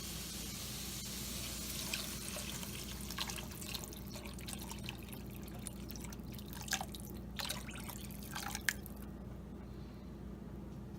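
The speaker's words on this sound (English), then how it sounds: "we're going to add 2 quarts of water" Water poured into a pot for chicken noodle soup, a close continuous splashing and dripping with small sloshes that trails off near the end.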